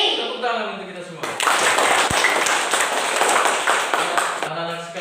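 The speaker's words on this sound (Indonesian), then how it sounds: "Tepuk tangan untuk kita semua." Children in a classroom clap together for several seconds, a dense burst of applause between a teacher's spoken prompts before and after.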